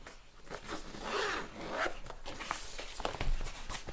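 A zipper opens the front compartment of a Tomtoc tablet shoulder bag, heard close and fairly quiet as several short ratcheting pulls and rasps across the few seconds, with no talking.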